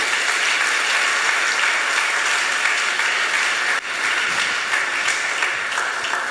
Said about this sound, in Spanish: Dele palmas al Señor la iglesia